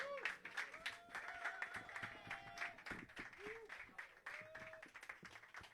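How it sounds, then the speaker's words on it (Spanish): Audience applause at a live cultural event, fairly faint and mixed with talk and cheering voices, claps sounding scattered and uneven throughout. "Sastre, fuerte el aplauso."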